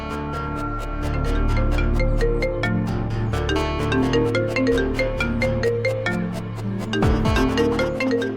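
A melodic phone ringtone plays continuously, bright chiming notes repeating in a steady pattern, close and clear with no talking.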